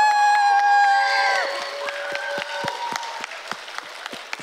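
A conference audience claps and cheers to choose a contest winner. Dense applause with whoops and shouts rises loud, then thins into scattered claps and cheers, with voices calling out through it.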